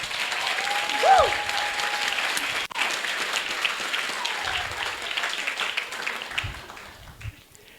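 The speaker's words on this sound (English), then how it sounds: "Can I get a round of applause for the bride, please?" Wedding guests applaud the bride in a sustained round of clapping at middling distance, with brief voices and cheers mixed into the steady applause as it slowly fades.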